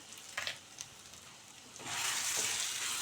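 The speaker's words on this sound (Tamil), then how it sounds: "நல்லா ஒரு 5 நிமிஷம் மேலே எண்ணெய் பிரிகிற அளவுக்கு நல்லா வதக்கி விட்டுக்கிடணும்" Mango thokku with curry leaves and salt sautéing in oil in a pan, a soft steady frying hiss that swells louder and denser partway through, with a few light stirring clinks early on.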